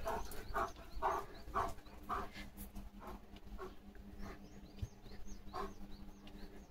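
Leo, a German Shepherd, pants hard in quick rhythmic breaths after playing in the city. The panting is steady at first, then gives way to quieter scattered sounds and faint chirps.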